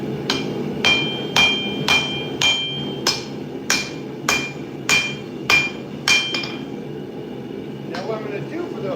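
Hot steel is hammered while forging a Nordic khopesh, shaping the blade toward its hook: about a dozen sharp, ringing blows land at a brisk, even pace, close and loud, then stop briefly.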